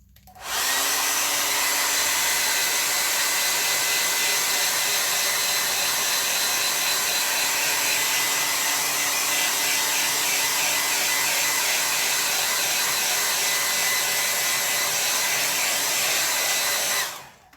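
A hair dryer blows steadily and loudly over a painting for about sixteen seconds, switching on at the start and off near the end, a dense continuous whoosh with no talk.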